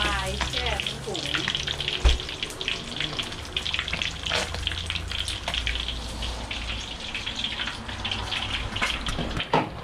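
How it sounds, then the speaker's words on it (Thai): Tilapia fish frying in hot oil in a Thai kitchen, giving a loud, dense, continuous sizzle with occasional pops and clatters close by. "ทอดปลาร้อนๆจ้า"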